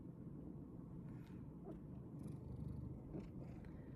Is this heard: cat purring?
yes